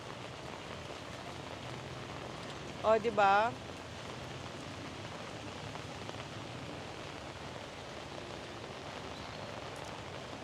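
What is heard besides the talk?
heavy rain falling at night in Siem Reap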